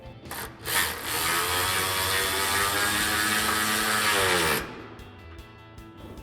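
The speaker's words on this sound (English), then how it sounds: "we'll bring in our 13mm wrench with our socket and tighten down our through bolt" A 13mm socket on a ratchet wrench tightens a through bolt while mounting drop steps on a 2010-2026 RAM 2500 truck, giving a steady, loud, continuous mechanical whir for several seconds before stopping abruptly, with a few light clicks after.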